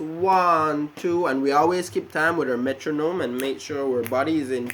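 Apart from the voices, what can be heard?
None of the usual background noises is heard.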